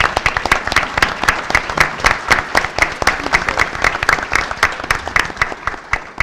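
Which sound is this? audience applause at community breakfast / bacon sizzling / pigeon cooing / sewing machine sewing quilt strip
audience applause at community breakfast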